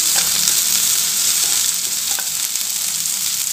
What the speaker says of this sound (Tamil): வெங்காயம் சூப்பராக வதங்கிடுச்சுங்க